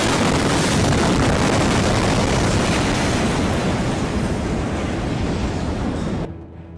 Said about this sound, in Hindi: धमाका होते ही वहां अफरा तफरी मच जाती है।